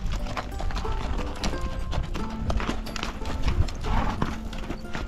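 Horses ridden on a trail toward a canyon clop along at a walking pace, with steady, close hoofbeats mixed with tack creaks and a busy outdoor background.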